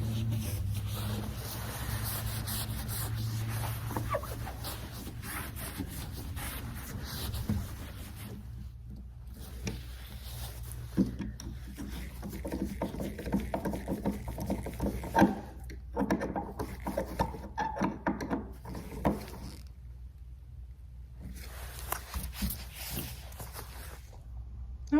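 A cloth rubs and squeaks against a varnished exterior wooden door, wiping off glass-cleaner residue in repeated close strokes with short pauses between passes.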